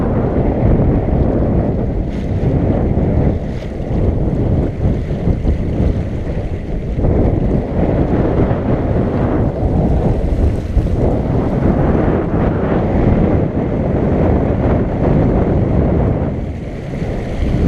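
Steady wind roar buffeting the microphone aboard a sailboat, a constant loud rush mixed with the wash of water against the hull, unbroken and with no one speaking.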